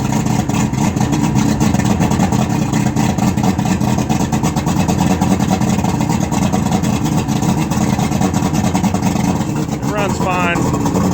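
Outboard motor on a 1998 Stratos 201 Pro Elite bass boat idling after a warm start, a loud steady low rumble close by with a faint higher whine near the end.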